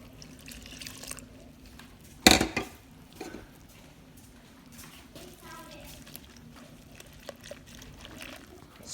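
Warm water pours softly into a bowl of dry yeast for bread dough, with a sharp knock partway through and quiet room noise around it.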